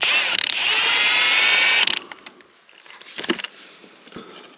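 A ratchet undoes bolts on a Fordson Power Major crane during sump removal, giving a loud, rapid, continuous clicking for about two seconds, then quieter metallic clinks and handling noises.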